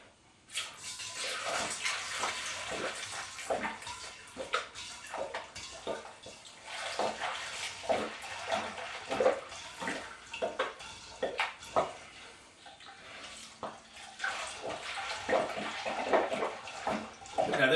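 Home-brewed beer poured steadily through a strainer, a continuous splashing, gurgling stream with clinks of metal, close and moderately loud throughout.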